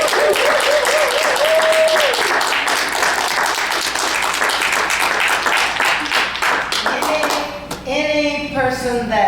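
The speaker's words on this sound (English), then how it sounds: "I think we should just applaud her for the transition." Audience applause for a performer at a music-history talk event, dense clapping sustained for most of the stretch with a held tone and voices mixed in, fading near the end as talking resumes.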